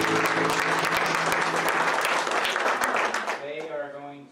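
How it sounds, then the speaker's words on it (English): Audience applauding at a live concert, loud crisp clapping from many hands that thins out toward the end as a voice starts speaking. "another round of applause for our"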